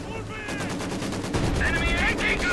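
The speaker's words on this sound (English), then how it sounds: "And there we go, field gun bombarding." Field gun bombarding in the Company of Heroes 2 game: a rapid series of sharp booming shots and blasts crowding together over a couple of seconds, loud and close.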